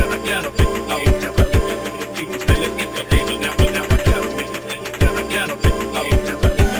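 A kick drum enters an electronic music track, steady punchy low thumps falling in a regular groove under a busy layered mix of leads and textures, loud and up front.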